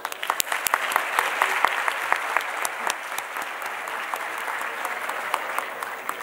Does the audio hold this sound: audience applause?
yes